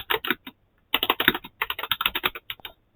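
Typing an email on a computer keyboard in bursts of quick, close keystrokes separated by short pauses, with no voices.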